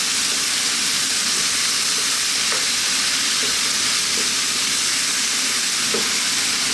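Steady, loud sizzling and crackling of tomatoes frying in a hot pan, continuous hiss with occasional small pops, no voices.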